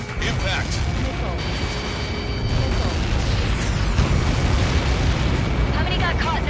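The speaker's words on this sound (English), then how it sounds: "How many got caught in that explosion?" A massive missile strike detonates in the Ace Combat 7 aerial combat game, a sustained loud roaring blast with deep rumble filling the whole stretch, while a radio voice talks over it.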